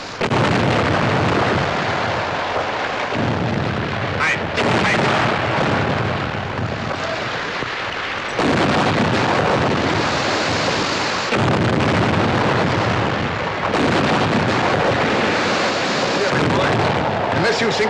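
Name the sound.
artillery gunfire from a submarine attack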